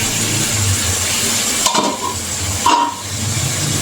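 Vegetables sautéing in oil in a pan on a home stove, a steady soft sizzle and hiss running throughout, with two brief scraping stirs of a spoon against the pan near the middle and end.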